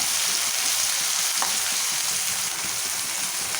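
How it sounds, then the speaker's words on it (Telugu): Tomatoes frying in oil in a pan for a ridge gourd curry, giving a steady, loud sizzle that holds without a break for the whole stretch, with faint stirring underneath and no voices. "టమాటా మంచిగా ఉడకాలి నూనెలా టమాటాలు నూనెలు ఉడితేనే మంచిగా కూర టేస్ట్ బాగుంటుంది"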